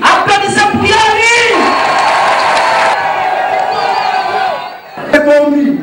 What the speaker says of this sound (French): Applaudissez pour Ya Ali.